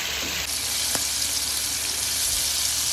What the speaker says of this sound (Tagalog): magpiprito ulit tayo para maprito natin lahat yung ating chicken